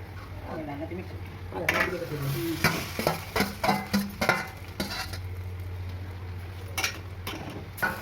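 Grated mango and coconut are sautéed in oil in a pan, a gentle sizzle under repeated scraping stirs of a spoon against metal, with a voice speaking over the cooking.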